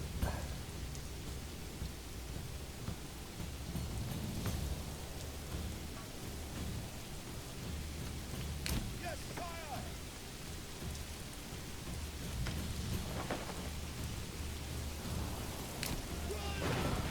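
Steady heavy rain hisses through a video-game thunderstorm in Manor Lords, with faint distant thunder rumbling now and then beneath the constant downpour.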